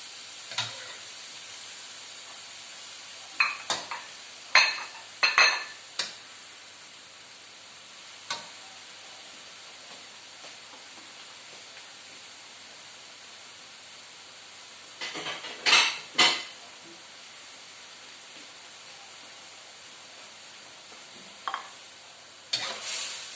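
Shrimp and broccoli stir-fry in a pan, a faint steady sizzle broken by clusters of sharp spatula scrapes and clinks against the metal, with long quieter stretches between them.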